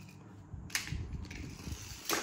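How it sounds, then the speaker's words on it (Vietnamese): Toy cars collide with a few sharp plastic cracks and clattering knocks, quiet and close, with no talking in between. "tông đụng với xe."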